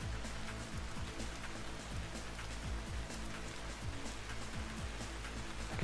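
Steady rain falling in the survival game Vintage Story, a constant soft patter of drops on surfaces with a continuous hiss, even and moderately loud throughout with no talking.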